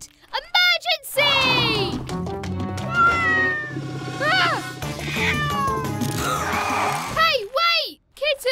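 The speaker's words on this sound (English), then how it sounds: "That kitten must be lost." A cartoon kitten meows again and again in high, wavering cries, loud and close, with a child-like voice talking between and over the meows.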